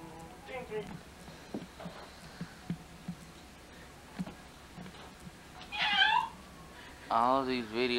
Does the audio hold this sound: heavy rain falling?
no